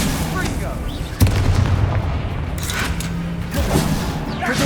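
A Confringo fire spell going off in Hogwarts Legacy, a sharp blast followed by rumbling booms and crackling bursts that repeat across the scene at close range.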